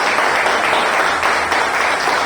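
Loud, dense clapping from a church congregation praising the Lord during an evening service, an unbroken roar of hands close by with no speech over it.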